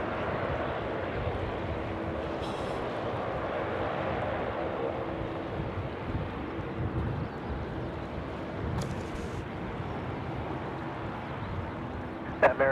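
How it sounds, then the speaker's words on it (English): QantasLink plane departing Sydney Airport, a distant, steady rumbling engine roar with a few faint radio or voice bursts over it, fairly quiet and continuous. "We've got a Q-Link departing just ahead of the American Airlines flight"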